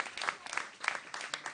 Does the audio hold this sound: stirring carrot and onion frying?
no